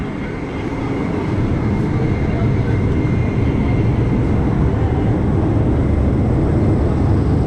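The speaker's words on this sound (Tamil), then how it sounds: "இதுதான் மெட்ரோ." A loud, steady rumble of an Istanbul metro train running, a dense continuous roar with faint voices underneath.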